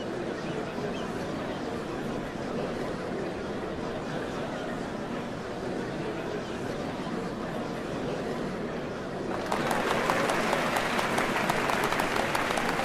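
A large crowd in Final Fantasy XIV: Dawntrail cheers and claps at the Dawnservant ceremony, a dense, continuous roar of applause that swells louder near the end.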